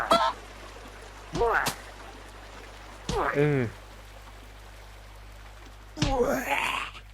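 Chicken-like squawks from a Minecraft-style sandbox game of village and mining life, four short bursts spaced a couple of seconds apart, fairly loud over a steady low hum with faint background noise.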